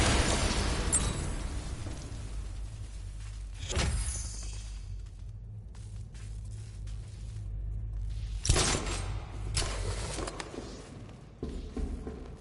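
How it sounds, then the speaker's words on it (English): An explosion detonated by a character in an animated Batman episode, with sharp bursts and crashing impacts rising out of a continuous rumbling, noisy background across the scene. "I need to be at a safe distance before I detonate."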